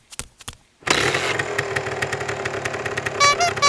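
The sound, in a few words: toy Ghost Rider motorcycle engine sound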